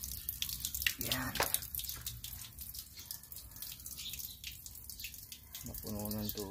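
Water drips and trickles from inside the door of a Toyota Fortuner during maintenance, irregular close splashy drops running throughout, with brief voices near the start and end.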